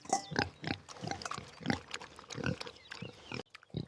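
Young pig grunting and snorting while eating food, a series of short, irregular grunts and snuffles at close range, loud and alone without talk.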